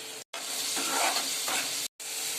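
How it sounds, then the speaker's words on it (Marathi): Masala fries in hot oil with a steady, bright sizzle and stirring, continuous apart from two brief silent cuts. "मसाला छा तेल सुटेपर्यंत आपल्याला फ्राय करून घ्यायचा आहे"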